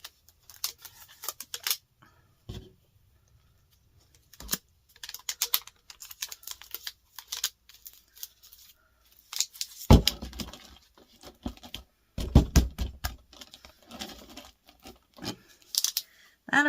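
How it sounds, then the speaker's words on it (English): Packing tape being pulled and pressed onto a giant cardboard box, in bursts of ripping, crinkling and scraping separated by quiet gaps, close and fairly loud. "I'm going to try and tape it."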